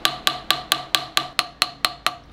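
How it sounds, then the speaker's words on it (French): A hammer strikes a metal knife blade ten times in a steady rhythm, each blow ringing sharply and close, with no voices. "on voit bien, je sais pas combien il y a de coups de marteau dessus"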